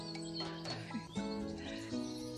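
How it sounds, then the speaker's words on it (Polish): Birds chirping and singing in a forest at dusk, a busy chorus of overlapping tweets and calls, fairly close and continuous with no talk. "Ale ptaki śpiewają. Ale się rozśpiewały."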